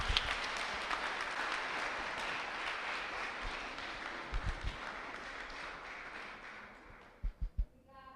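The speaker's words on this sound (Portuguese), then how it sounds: "Dá uma salva de palmas para Jesus" A church congregation at a communion service claps together in a sustained, fairly even burst of applause that fades toward the end, followed by a few close, sharp thumps.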